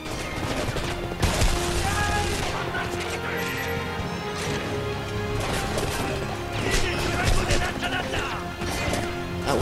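A grenade blast and bursts of gunfire crash through the video game Homefront, loud and continuous, with a player talking over the action.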